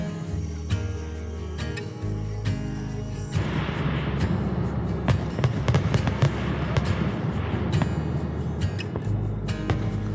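Fireworks bursting over Intermediate Lake during a July 4th celebration, a dense run of booms and crackles that thickens after the first few seconds into steady rumbling with sharp pops scattered through it.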